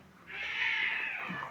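A cat gives a single drawn-out meow lasting about a second, fairly faint and slightly distant, during a card game of tongits with little else heard.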